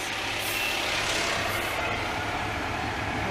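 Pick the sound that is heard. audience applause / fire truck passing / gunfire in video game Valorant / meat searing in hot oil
fire truck passing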